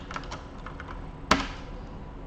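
Keys on a computer keyboard are tapped in a quick, quiet burst of soft clicks, ending with one louder, sharper keystroke, like a final press of Enter, in a quiet room.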